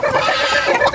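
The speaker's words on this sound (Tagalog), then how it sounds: "Nandito na naman ang Gansa." A loud, close goose honk, a sustained nasal call with slight wavering, filling the whole moment.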